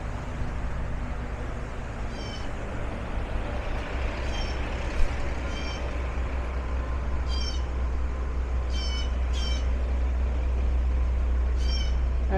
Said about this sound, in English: That is a Blue Jay squawking.